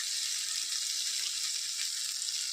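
Masala curry sizzles and fries steadily in a pan, a continuous bright crackling hiss with no talk over it.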